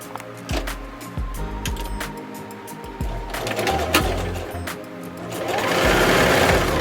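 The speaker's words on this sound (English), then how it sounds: "So let's stitch this up. half inch seam allowance here at the waist." Sewing machine stitching a half-inch waist seam on a wrap dress, running in several bursts of steady rapid whirring with brief pauses, close and fairly loud, no talking.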